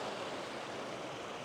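A mountain stream at Minaret Creek campsite on the John Muir Trail flows steadily, a soft even babbling wash heard alone at moderate distance without pause.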